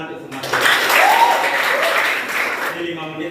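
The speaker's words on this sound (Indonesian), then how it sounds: "silakan dulu tepuk tangan untuk semua." A physics class applauding in a classroom, a sustained wash of student clapping that swells and then tapers off, with voices heard over it near the end.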